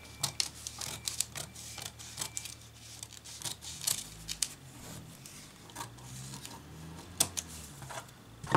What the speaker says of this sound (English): so I'm just going to trim it off like so